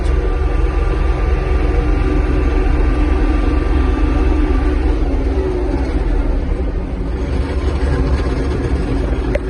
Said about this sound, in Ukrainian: трактор розганяється.